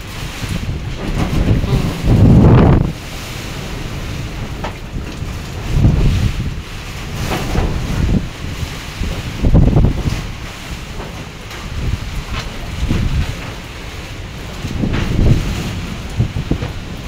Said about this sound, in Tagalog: Parang yumayanig yung bubong kapag lumalakas yung hangin mga kamoment.